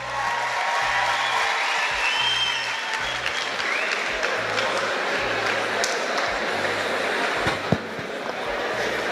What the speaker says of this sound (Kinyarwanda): amashyi cyane kuri Muhinde